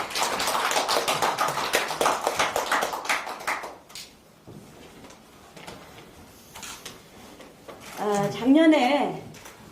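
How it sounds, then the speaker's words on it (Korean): Audience applause welcoming a visiting party leader and Seoul mayoral hopeful at a women's organization policy meeting, a dense sustained clapping for about four seconds that then fades, followed by quieter room sounds and a voice. "박수로 환영을 해드리겠습니다"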